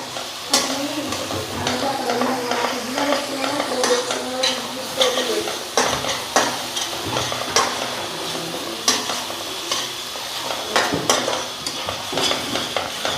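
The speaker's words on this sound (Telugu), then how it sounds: "అల్లం వెల్లిపాయలు వేసిన తర్వాత ఈ మా అడుగంటుకోకుండా మంచి కలుపుకోవాలండి." Ginger-garlic paste frying in a pan with mutton cooking, stirred steadily: a sizzling bed under repeated scraping and clinking strokes of a spoon against the pan, close and fairly loud, without talk.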